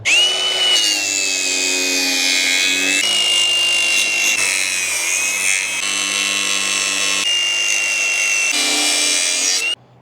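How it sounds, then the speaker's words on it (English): An angle grinder cuts off protruding screws on the wooden boards of a trailer being restored, giving a loud, steady high-pitched whine with grinding noise that runs without break for about ten seconds. "I'm just gonna take my grinder and just cut them off"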